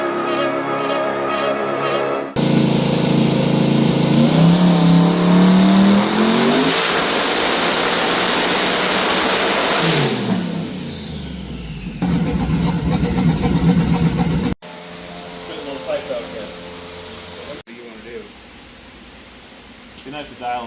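A twin-turbo LS-powered Trans Am screams on a dyno, its engine climbing through a long, loud rev sweep before dropping away. Shorter bursts of engine noise follow, and people talk over it in places.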